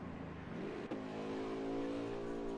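A race car accelerates out of the pit lane at Watkins Glen during a Thursday night oval race, its engine revving with a steady rising tone and a brief dip partway through, continuous and fairly near.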